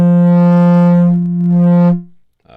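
A sustained low note from a Kodamo EssenceFM MKII synthesizer runs through half negative fold back distortion, rich in harmonics and gritty, dipping briefly mid-note before swelling and fading out. The sound is loud and solo.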